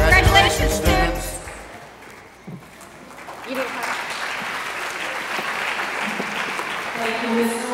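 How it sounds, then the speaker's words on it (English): At a student media festival, an audience applauds the students' work with sustained crowd clapping that builds and carries on steadily. Earlier, a speaker talks over background music. "let's applaud these students' fine work"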